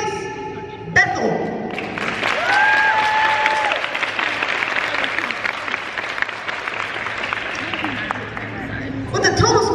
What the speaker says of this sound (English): One more round of applause for your 29th.